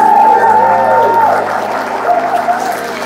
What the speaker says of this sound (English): If you can, round of